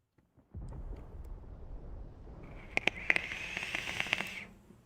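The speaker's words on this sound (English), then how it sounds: "Sounds like thunder." Low rumbling thunder from the video game Final Fantasy XVI builds and swells over a few seconds, with sharp crackling strikes partway through and then fading.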